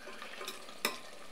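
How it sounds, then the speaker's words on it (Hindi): Aloo palak, potato and spinach, fries in a pan with a soft sizzle and a couple of quick stirring scrapes, faint and close. "इसको थोड़ा सा और फ्राई कर लेंगे।"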